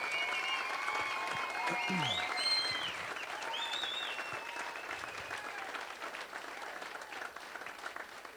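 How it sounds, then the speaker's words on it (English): An audience applauds a speaker at a leadership talk, sustained crowd clapping with some voices and whoops rising over it early before it gradually thins out. "And so we applaud you"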